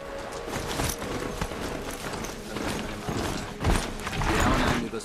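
Steady hoofbeats from a mount ridden through Horizon Zero Dawn, a busy continuous clip-clop layered with mechanical creaks and game ambience, with a heavier thud swelling near the end.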